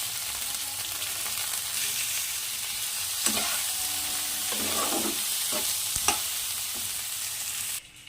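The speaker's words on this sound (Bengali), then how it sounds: "একটু হলুদ দেবো দিয়ে বেগুনটাকেও লাল করে ভেজে নেবো" Eggplant pieces fry in hot oil with salt and turmeric, a steady broad sizzle running throughout with a few sharp utensil clicks and scrapes, the frying cutting off abruptly near the end.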